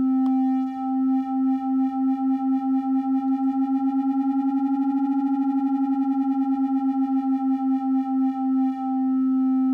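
Two sustained synthesizer notes drift apart and back together, producing an even, pulsing beat whose rate speeds up and then slows again, steady and close with no voices.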